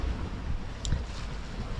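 Steady wind at sea aboard a sailboat crossing the Pacific, around 12 knots, blowing across the microphone as a continuous low rumble with faint water wash, no talking.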